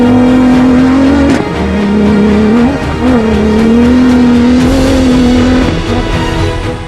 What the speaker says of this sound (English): for the first time in 2024, the cars hit the dunes.